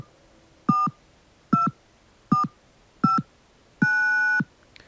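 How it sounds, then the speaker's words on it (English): Telephone keypad DTMF dialing tones: five short dual-tone beeps in an even sequence, the last held noticeably longer, clear and alone against a quiet background. "we're all familiar with the sort of sounds that come out of the keypad when we press the numbers"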